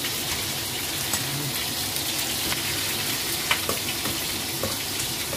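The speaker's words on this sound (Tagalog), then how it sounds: "Gigisa muna natin yan guys." Food sautés in a pan at a home cooking session where salmon is being prepared, giving a steady, close sizzle with occasional clicks and stirring scrapes throughout.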